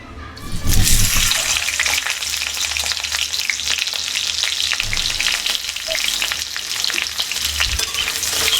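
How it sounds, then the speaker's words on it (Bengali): Pieces of pointed gourd fry in hot mustard oil in a wok, a loud, dense, steady sizzle with occasional stirring, heard close up and continuing without pause. "প্রথমে আমি পটলগুলো ভেজে নেব।"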